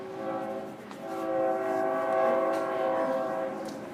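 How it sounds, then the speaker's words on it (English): A train passes close by, sounding a loud, sustained multi-tone horn over the rumble of the rails. The horn swells to a peak midway through and holds for several seconds without speech. "Stupid train."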